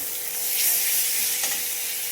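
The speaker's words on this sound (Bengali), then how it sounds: "রসুন বাটাটা দিয়ে ওটাকে দিয়ে একটু ভালো করে সুন্দর করে ভেজে নেব।" Garlic paste is added to onions already fried reddish-brown in a pan, and the mix fries with a steady, moderately loud hiss. The sizzle swells briefly in the middle. No one speaks.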